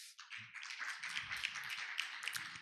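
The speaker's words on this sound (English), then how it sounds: "Let's give a big round of applause to the moderator and speaker of this session." Audience applause at an international IP court conference session, a dense wash of many hands clapping steadily for the moderator and speaker, fairly faint and roomy, with a few quiet low thumps beneath.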